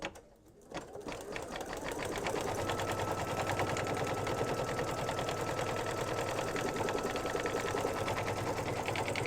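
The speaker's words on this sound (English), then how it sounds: "So I'll go ahead and now stitch color stop number 7" A computerized embroidery machine stitches color stop 7 of a snowstorm design on a fabric mug rug, starting after a brief pause and then running as a fast, steady, close rattling hum.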